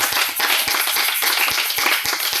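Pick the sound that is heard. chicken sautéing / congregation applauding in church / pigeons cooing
congregation applauding in church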